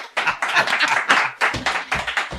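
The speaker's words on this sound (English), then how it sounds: "A round of applause" Comedy club crowd applauding after a joke on a UK stand-up tour: dense hand clapping in uneven bursts, close and fairly loud, filling the short stretch alone.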